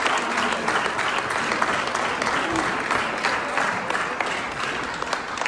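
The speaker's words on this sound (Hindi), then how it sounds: "Give a huge round of applause for them, please." A large audience at a Chhattisgarhi cultural event abroad claps steadily for several seconds, a dense, even roar of hands with light talk underneath.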